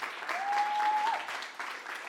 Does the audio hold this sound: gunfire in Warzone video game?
no